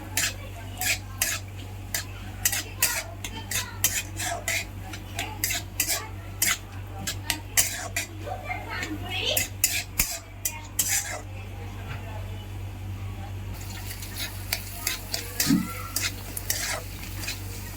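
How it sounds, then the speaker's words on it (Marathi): Chopped onion is stir-fried in a pan over a medium-low flame for dhaba-style methi matar malai, with a steady sizzle under repeated close spatula scrapes and clinks against the pan. "कांदा आपण मीडियम लो फ्लेमवर 4 ते 5 मिनिट चांगला परतून घेऊया।"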